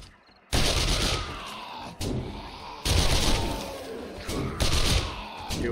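An SMG fires in a zombie video game, loud sustained bursts of rapid shots broken by short pauses, with dense, continuous gunfire filling most of the clip.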